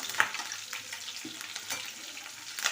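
Small crackles and pops of curry leaves frying in hot oil for a tempering, a soft sizzle with a few sharper spits, close by and without talk.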